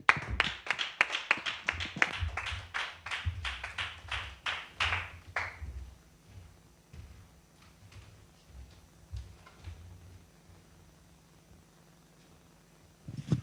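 A church congregation claps in a quick rhythmic beat that is close and sharp for several seconds, then thins out into sparse, fainter claps and taps over a quiet room.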